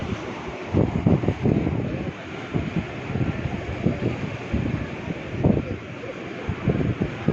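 Gusty wind at Santa Monica, Los Angeles, buffets the microphone in uneven rushes and thumps, a steady low roar with irregular louder bursts.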